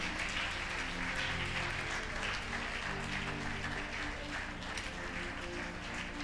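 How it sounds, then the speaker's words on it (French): A church congregation applauding, sustained dense clapping from many hands filling the room at an even level, with some voices mixed in underneath. "Put your hands together for the Lord."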